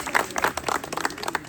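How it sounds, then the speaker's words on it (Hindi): Students clapping together in a group at a campus gathering, a brief burst of uneven applause lasting about a second and a half, fairly close with no voices over it. "एक बार तालियां अपने लिए ही"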